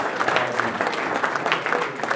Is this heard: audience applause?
yes